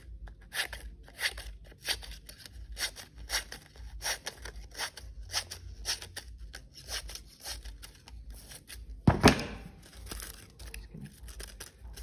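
Paper is crumpled and bent by hand to make a texture for a design booklet, giving a close, rhythmic run of crinkling and crunching bursts with one louder crackle near the end.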